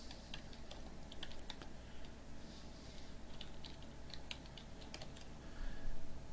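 Fingers tapping out a short note on a computer keyboard, a soft, close, irregular patter of keystrokes over a steady low room hum, no voices.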